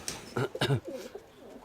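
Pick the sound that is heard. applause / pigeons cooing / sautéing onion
pigeons cooing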